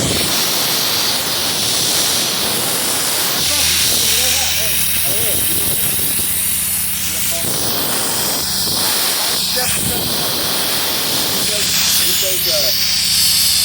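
Steady hiss from a spray foam insulation rig as it is being shut down on a construction job, running continuously under intermittent speech.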